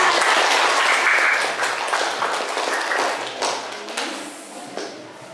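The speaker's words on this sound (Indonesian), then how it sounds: "Beri tepuk tangan" Classroom of students clapping their hands in applause, a loud burst of many overlapping claps that gradually thins and fades toward the end, with no talking.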